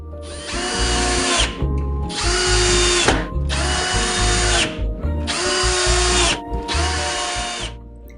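A power drill drives wood screws to fasten a return shell onto a bullet desk workstation, sounding five loud, sustained whirring bursts of about a second each, separated by brief pauses, close and alone.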